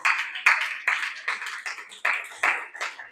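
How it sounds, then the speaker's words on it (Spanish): A church congregation at a bilingual service claps in a series of sharp, rhythmic bursts, about eight distinct claps or clap groups spaced evenly, fairly close and crisp with no talking. "Dale un aplauso al Señor."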